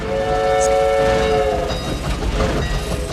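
Train pulling into a station in southern Arizona in an old western film: a sustained whistle tone rings out over steady rumbling rail noise, loud and continuous throughout.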